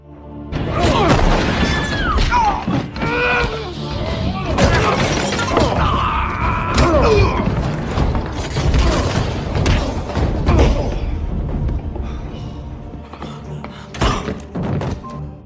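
A stick smashes gambling machines and glass inside a casino, giving repeated shattering crashes, heavy thunks and thuds across the scene, with a narrator's voice talking over the destruction.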